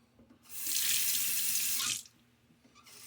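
Tap water runs steadily into a sink for over a second during a wet shave, then cuts off, leaving a quiet room with faint handling noises; the splash is close and alone, with no talking.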